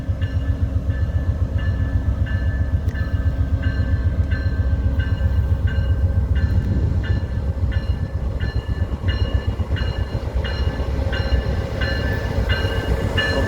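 A VIA Rail passenger train rolls past at Fallowfield Station, steady rumbling with rhythmic clickety-clack of wheels over rail joints, moderately loud and continuous with no voices.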